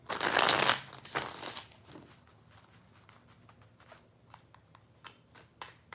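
Tarot cards being shuffled: two loud riffling bursts up close at the start, followed by quieter, scattered card rustles and soft taps, with no voices.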